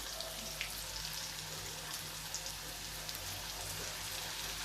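Green chilli pieces fry in oil for a tempering, making a faint, even sizzle with tiny scattered pops that continues without a break, quiet and steady throughout.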